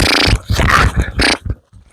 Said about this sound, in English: See how much he wants to put his mouth to work, chewing on that leash